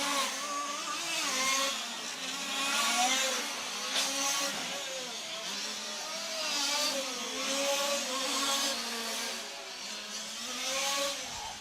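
Large-scale RC touring car engines race at a European championship qualifying session, with high, buzzing petrol engines rising and falling in pitch as cars pass and accelerate, loud and continuous at moderate distance.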